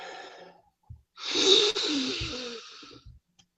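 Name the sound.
storyteller imitating a bear sniffing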